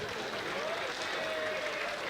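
Audience clapping in a dense, steady wash throughout a comedy lesson performance, heard at moderate distance and fairly faint, with a voice running faintly beneath.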